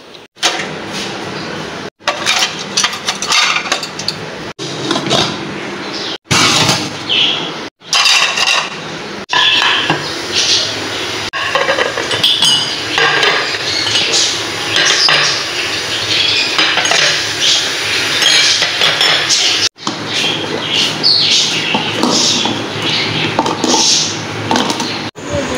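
Dishes and utensils are placed in a dish stand in a home kitchen, giving repeated close clinks, clatters and metallic knocks in an irregular rhythm for a long stretch, with short pauses between pieces.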